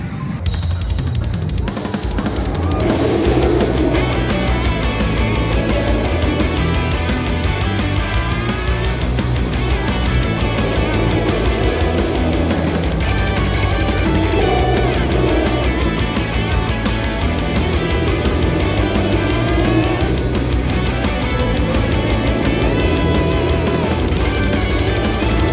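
A ride on the West Coast Racers racing roller coaster at Six Flags Magic Mountain: a loud, continuous roar of wheels and track rattle with steady humming tones, unbroken for the whole ride.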